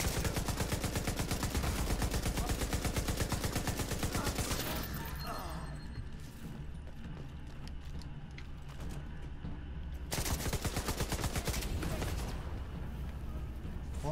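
Gunfire in The Division 2 shooter arrives as dense bursts of rapid automatic shots, loud and sustained for several seconds, breaking off into a quieter stretch before another long burst resumes.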